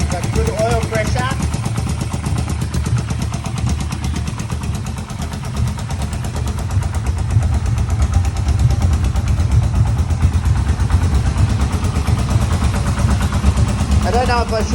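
A Yamaha Vmax motorcycle engine runs steadily at idle with a slight misfire, a loud low rumble filling the whole stretch while people talk over it.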